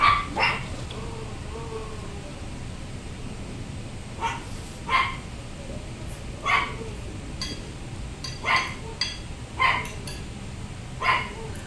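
A small dog gives sharp, yippy barks, about eight short bursts spaced irregularly, fairly near, against a low background hum.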